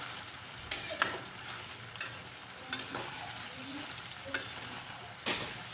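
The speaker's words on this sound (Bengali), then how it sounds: "খানিকক্ষণ ধরে ভালো করে কষিয়ে নেব, যতক্ষণ না পর্যন্ত পুঁই শাকটা আঠা আঠা ভাব চলে আসছে" Malabar spinach stir-frying with pumpkin and prawns in a pan, without spices, a soft continuous sizzle punctuated by about six sharp, close scrapes and knocks of a spatula against the pan, with no speech.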